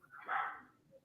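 Chihuahuas give a single short, fairly faint bark, heard alone with no talk over it.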